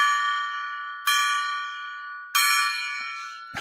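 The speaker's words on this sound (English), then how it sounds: "let's ring the golden gong 3 times" A golden gong is struck three times. Each strike rings out bright and loud, then hums down into a long, shimmering decay before the next hit.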